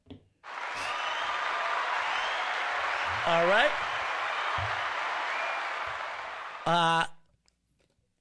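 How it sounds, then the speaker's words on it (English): Sustained audience applause for newly sworn-in citizens, a broad steady wash of clapping lasting several seconds, with brief talk and a short tonal burst breaking through near the middle and end. "Give them a round of applause"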